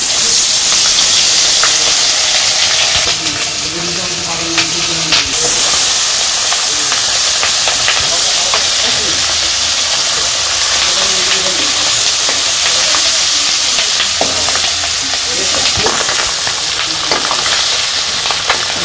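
Pond fish frying in hot oil for a Bangladeshi village fish curry, with a loud, continuous close-up hiss and crackle and occasional clatter of utensils.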